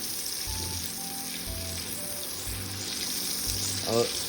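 Food frying in a pan for a Chinese-style dish, a steady oil sizzle with periodic low bumps as the pieces are tossed around, and a brief clatter near the end.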